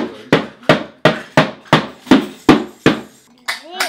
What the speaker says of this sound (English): Go and get your hammer and do it